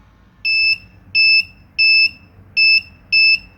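A regular electronic buzzer powered at 5 volts beeps five times in a steady rhythm, each tone loud, shrill and about a third of a second long, with short gaps between.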